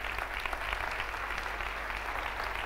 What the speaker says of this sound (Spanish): Un fuertísimo aplauso para él.